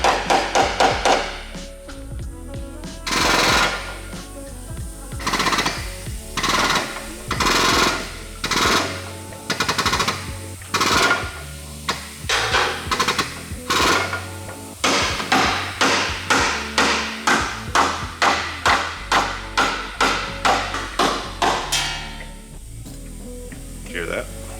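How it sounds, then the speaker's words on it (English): Repeated hammer strikes on the frame rail of a BMW E30 ring out as sharp metallic pings and taps, some in quick rhythmic bursts, close and loud, with people talking over parts of it. "You tap it with the hammer,"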